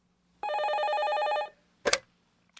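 An old-style telephone bell rings for an incoming call, one continuous trilling ring lasting about a second in a quiet room, followed by a short clatter as the receiver is picked up.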